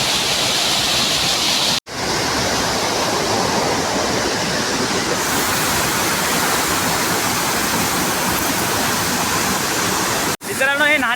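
Water pours steadily from a natural spring outlet, with one channel running slightly warm and another cold, making a loud, continuous close-up rushing broken only by two brief cuts while someone talks over it.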